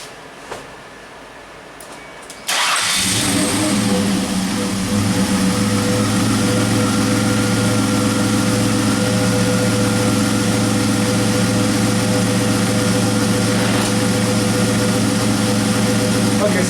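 A car engine, its stalling fault with the windshield wipers on now fixed, starts up abruptly after a quiet stretch, then idles steadily and loudly with a continuous low hum and whirring fan noise throughout.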